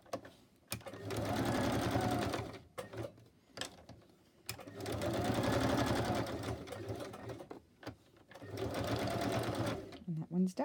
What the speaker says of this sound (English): When you go round corners, keep your needle down.